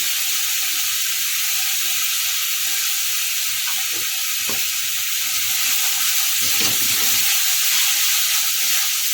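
Cauliflower and spices frying in a pan, a steady loud sizzle throughout, broken by a few soft stirring scrapes and clinks, with no voices.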